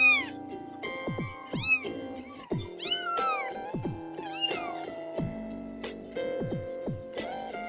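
A small rescued, injured kitten meows repeatedly and close up, with rising and falling high-pitched cries over quiet background and no speech.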